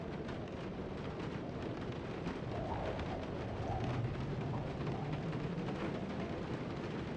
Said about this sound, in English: Of course, it had to be raining.